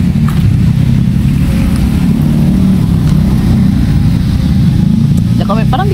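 A motorcycle engine runs steadily at close range, a dense low rumble that fills the whole clip, with a brief voice near the end.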